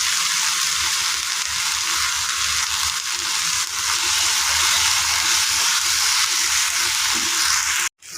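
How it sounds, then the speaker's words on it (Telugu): Ginger garlic paste frying in a pan with salt and turmeric for a chicken fry, a loud continuous bright sizzle that holds steady throughout, with faint stirring underneath before cutting off abruptly at the very end. "అల్లం వెల్లుల్లి పేస్ట్ పచ్చి వాసన పోయేదాకా వేపాను"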